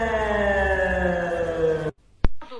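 A wartime air raid siren, used as a meme, wails steadily in a layered harmonic tone, then winds down and stops abruptly, followed by a sharp click and a brief trailing sound.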